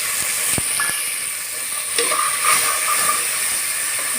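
Onion paste and chopped tomato fry in a pan for egg dopiaza, a steady close sizzle and hiss with a few sharp pops and spatters, no voices.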